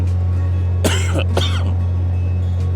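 A man coughs twice in quick succession, close and fairly loud, over a steady low hum, apparently aboard a narrowboat in Gas Street Basin while he has a chesty cough and sore throat.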